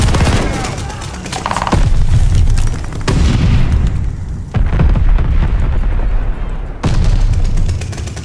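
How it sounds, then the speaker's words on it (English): Bombing-run explosions in Call of Duty: Vanguard: a loud series of heavy booms and blasts, with crackling fire and debris between the hits, each hit sharp and close. "Teammate called a bombing run"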